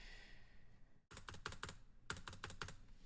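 Quick bursts of typing clatter on a very thin computer keyboard, close and quiet, after a short stretch of faint room hiss; the keystrokes come in fast uneven clusters.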